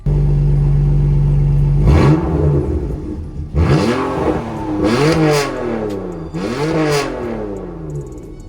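A straight-piped BMW E46 330Ci drift car, exhaust open after the headers, idles steadily then revs hard in three or four loud, rising-and-falling blips, close and with no talk over it.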